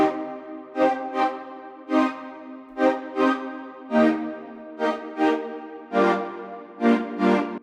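A Vital synth pad built from saw waves with chorus, distortion, filtering, EQ and reverb plays a series of rich sustained chords that swell and fade in short repeated bursts, clean and alone.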